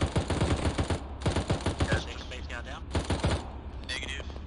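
Rapid bursts of machine gun fire from a BTR-152 armored vehicle in ArmA 3 crackle in short volleys, with a voice talking over the shooting and radio-like chatter near the end.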